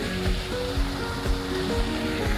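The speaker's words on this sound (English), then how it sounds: "there's a waterfall right there" A small waterfall in the Blue Mountains spills into a murky river, giving a steady, close rush of falling water with no voices.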